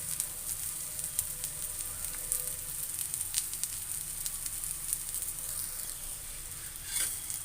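Ragi and drumstick leaf adai frying on a pan, giving a steady, close sizzle with small crackles throughout, alone without talk.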